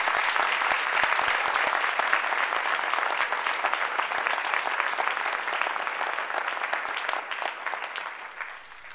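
Sustained applause from an audience at a 2010 honors band concert, dense steady clapping with a few sharper close claps, holding loud throughout before easing slightly at the end.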